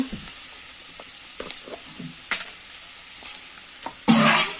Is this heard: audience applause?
no